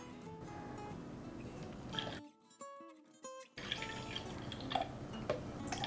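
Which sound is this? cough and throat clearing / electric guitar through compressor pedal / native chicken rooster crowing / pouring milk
pouring milk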